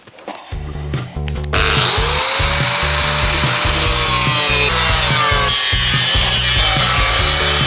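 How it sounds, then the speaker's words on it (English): A power tool cuts through rotten car body metal near a chassis leg, starting with a few rough bursts and then settling into a loud, continuous grinding whine with wavering pitch, close up and without speech. "let's cut out the rot"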